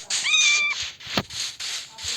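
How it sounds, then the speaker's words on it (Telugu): A cat in Minecraft meows clearly once, a rising, drawn-out call, followed by a short click and soft background hiss. "ఇక్కడ నాకు పిల్లి దొరికింది."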